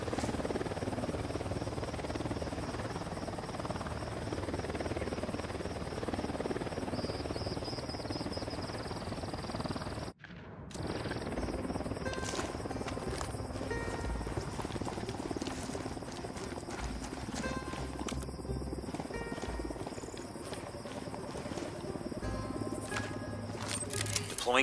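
A patrol helicopter in the Ghost Recon Wildlands video game drones steadily at a distance for the whole stretch, a low continuous rotor wash with a brief dropout midway and faint game sounds layered over it.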